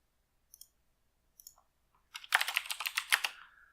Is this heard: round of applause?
no